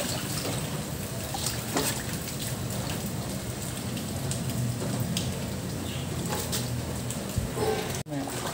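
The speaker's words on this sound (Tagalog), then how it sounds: "Umuulan ha." Steady rain falls in an outdoor rural setting, a constant dense patter with occasional heavier drips, close and continuous throughout.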